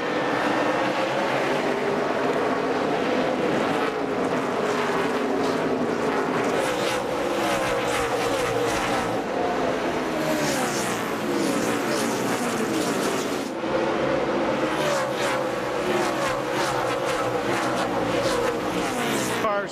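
A pack of NASCAR stock cars roars away at the Bristol race start, engines loud and continuous with rising and falling revs and passing whooshes echoing around the tight short track.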